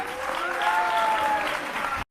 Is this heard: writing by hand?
no